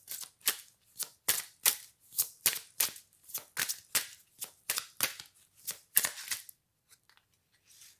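Oracle cards are riffled and tapped in a quick run of crisp, papery snaps, about a dozen close bursts in steady rhythm, then a few faint scattered clicks as cards are drawn and set down, with no voice.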